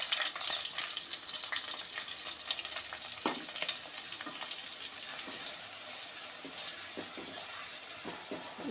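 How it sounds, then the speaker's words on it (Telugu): Onions fry in hot oil for a chicken curry, giving a continuous bright sizzle with scattered pops and light stirring clicks, steady and fairly close throughout. "నూనె వేడైపోయింది. ఉల్లిపాయలు వేసుకుందాం."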